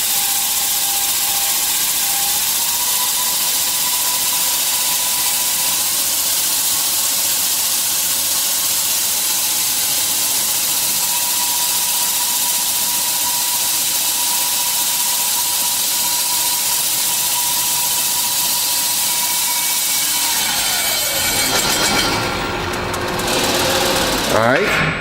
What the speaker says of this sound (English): You're going to use the foot pedal to slow down your abrasive belts and allow your tubing to enter the machine.